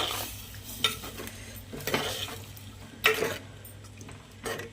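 Tamarind juice for a drumstick and egg curry simmering in a pan, with a soft steady bubbling bed under a few light clinks and scrapes of a spoon against the pan.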